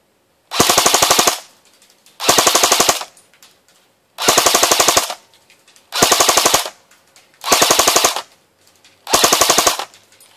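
Umarex H&K G36C Sportline airsoft electric gun firing full auto, six loud close bursts of rapid mechanical clatter separated by short pauses, with no talk.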